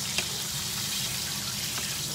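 KFC-style chicken pieces fry in hot oil with a faint, even crackle and hiss that carries steadily through a brief moment, with no voices.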